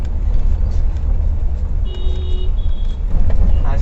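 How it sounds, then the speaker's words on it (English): Engine and road noise from an old Toyota Camry pulling away under throttle, a steady broad rumble that swells toward the end, with a brief faint tone in the middle. "As you can see, once you get onto the throttle, it takes off."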